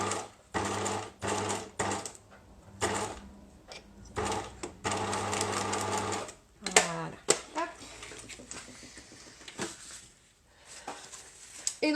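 A sewing machine stitches a zip inset into a bicycle frame bag in short rapid bursts separated by pauses, with fabric handling and a quiet voice heard between runs.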